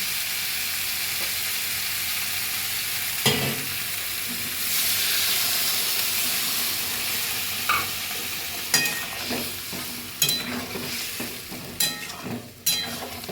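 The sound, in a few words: warm water poured into sizzling fried spice masala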